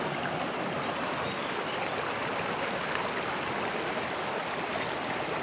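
Steady rushing of a flowing river, a continuous broadband wash of water with no breaks, fairly close and even in loudness throughout.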